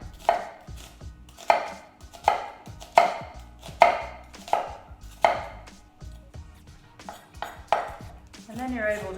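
A knife chops an onion on a board in a home kitchen, about ten crisp, evenly spaced cuts, close and clear, each with a sharp tap of the blade.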